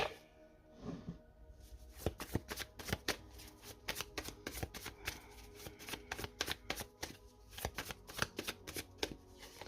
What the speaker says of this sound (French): on va poser 3 cartes du tarot